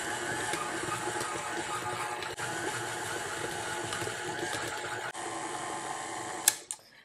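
An electric stand mixer creams butter and sugars for cookie dough, a steady close motor whir running nearly the whole time before it shuts off with a final clatter.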